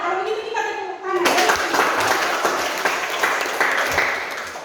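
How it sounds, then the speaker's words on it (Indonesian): After a brief spoken line, a classroom of students breaks into lively clapping for a presenting group, a dense burst of hands that keeps going with some voices underneath. "Kalau begitu kita tepuk tangan."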